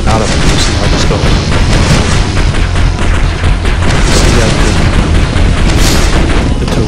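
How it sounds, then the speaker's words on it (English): Spaceship turrets firing nonstop in the Space Arena video game, a loud dense barrage of booms and blasts blending into a continuous roar with no pauses. "The turrets are constantly firing"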